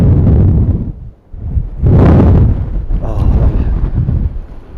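Cold wind gusts across an open field during a winter metal-detecting outing, buffeting the microphone in heavy low rumbling bursts that surge, briefly drop away and then return strongly.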